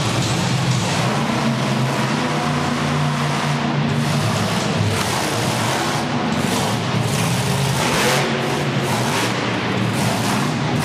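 The Summit Bigfoot number 18 monster truck runs at an arena event in Youngstown, Ohio, its engine giving a loud, continuous low rumble and roar with deep droning tones throughout.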